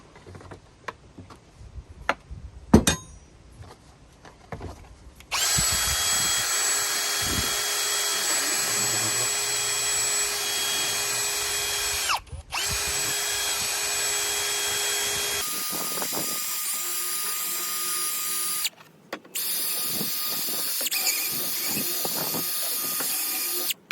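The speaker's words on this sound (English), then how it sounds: "I gotta ream it out just a little bit just to make it fit back there" A power tool reams out and enlarges a mounting hole for front metal grab bars on a Jeep TJ, its steady whining motor running in several long bursts separated by short pauses, with no one talking.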